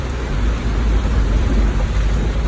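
A storm pounds a flooded road in Barangay San Roque, Digos City, with heavy rain hissing loudly and steadily over a deep low rumble of thunder and no voices.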